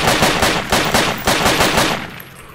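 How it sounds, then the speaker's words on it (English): Rapid bursts of automatic cover fire in the military shooter game Project Reality, several sharp rattling volleys in quick rhythm, loud and close, trailing off into a brief echo at the end. "I'm gonna give you cover fire"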